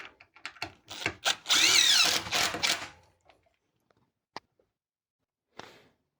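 A power drill drives screws into a wooden bed frame, whirring loudly and close for about two seconds with a rising whine, then stops. A few faint clicks and taps follow in the quiet.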